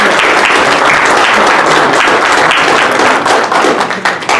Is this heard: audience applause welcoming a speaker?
yes